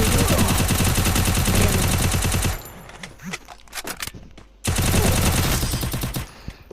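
Rapid automatic gunfire from the Free Fire video game, loud bursts filling the first two and a half seconds, a sparser stretch of scattered shots, then another dense volley.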